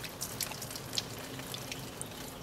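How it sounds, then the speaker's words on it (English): Water is poured over a Samsung Rugby smartphone to simulate rain, producing a soft, continuous splashing patter with scattered brighter drips, fairly quiet and close. "it's pouring rain on the Samsung Rugby"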